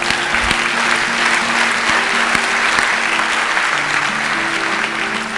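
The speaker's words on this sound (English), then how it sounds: "Give Joe a round of applause" A talk show audience applauds steadily and loudly for a volunteer called up on stage, a dense continuous wash of clapping lasting the whole stretch with a faint voice beneath.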